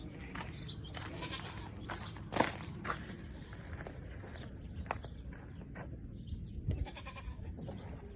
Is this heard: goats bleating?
yes